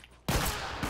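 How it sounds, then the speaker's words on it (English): Shotgun blasts in The Last of Us multiplayer, a loud close burst cutting in sharply after a quiet moment and sustained with a second heavy thump near the end. "Three shotgun shells to try and take me out."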